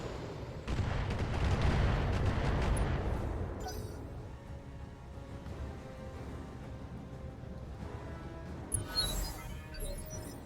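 Heavy missile salvo explosions from the Battletech Heavy Metal video game, a dense rumbling barrage that swells loud and then settles into a sustained booming roar with a few sharper impacts near the end.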